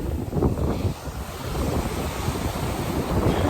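Rough ocean waves surging at a fishing spot in Saipan during heavy rain, a loud, rumbling wash of surf mixed with strong wind buffeting the microphone.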